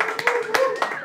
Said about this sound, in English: Are we clapping?